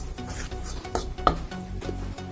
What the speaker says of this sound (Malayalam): ഈ ചട്ടിന്റെ ചൂടിൽ ഇത് അടി കരിഞ്ഞു പോകണ്ടെന്ന് എടുത്തിട്ടാണ് ഇങ്ങനെ ഇളക്കി കൊടുക്കുന്നത്.